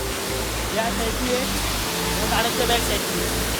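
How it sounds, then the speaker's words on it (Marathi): A waterfall near Naneghat, where three falls meet, produces a loud, steady broadband roar close by, with a person talking over it. "हा घरातला एकदम भारी धबधबा आहे"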